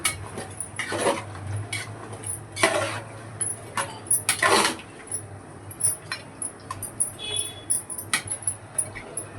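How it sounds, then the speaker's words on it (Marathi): Potato dum biryani being stirred in a pot, with scattered clinks and scrapes of a utensil against metal over a low steady hum, some louder bursts of mixing, fairly close. "आता एक वेळेस छानसं मिक्स करून घेऊया."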